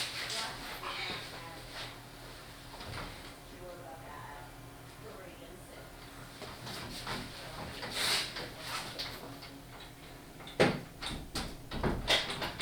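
Indoors, a door is pushed shut amid conversation, producing a few knocks and a sharper thump near the end, moderately close, with people talking throughout.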